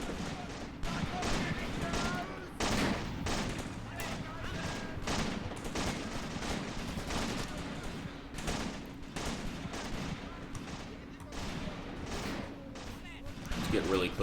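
Rapid volleys of rifle and submachine-gun fire crackle through a close-range infantry battle in Graviteam Tactics, the Shilovo 1942 fight, dense repeated shots over a steady din with a voice talking over it.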